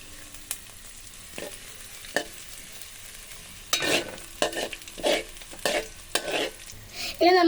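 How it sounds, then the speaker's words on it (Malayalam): Salted onions are stirred in a hot pan: a quiet background sizzle broken by a run of distinct, close spatula scrapes and clacks that grow busier toward the end, with no voices. "അപ്പൊ നമ്മൾ നേരത്തെ വാടാൻ വെച്ച ഉള്ളിക്ക് കുറച്ച് ഉപ്പ് ഇട്ടെടുക്കാം. എന്നിട്ട് മിക്സ് ചെയ്യാം."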